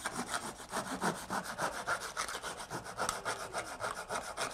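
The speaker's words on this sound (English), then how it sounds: "I'm just going to take a scroll saw." Scroll saw cutting through a dried gourd, a steady close rapid rasping buzz with regular pulsing strokes, heard alone without speech.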